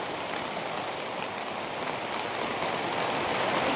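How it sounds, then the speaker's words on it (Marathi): Heavy unseasonal rain falls steadily in a continuous, even hiss of large drops on a rural farm surface, moderately loud and uninterrupted, with no voices. "अवकाळी पाऊस आला ना असा राडा होतो"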